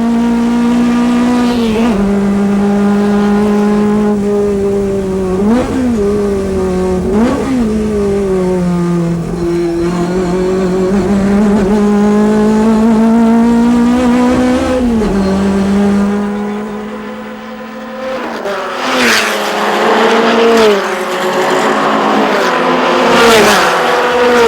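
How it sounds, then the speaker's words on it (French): Race car engines, an Alpine Berlinette and a Lotus 7 at a historic Grand Prix, rev hard and loud through repeated gear changes, pitch climbing and dropping with each shift, with another car roaring through near the end. "une Alpine berlinette décroche, une Lotus 7 derrière évite de justesse le tête à queue"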